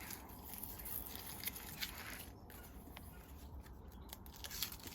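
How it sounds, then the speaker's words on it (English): Dry, papery skins being peeled by hand from harvested onions, a faint close rustle with small crackles and tearing sounds, no voice. "So we just peel those off."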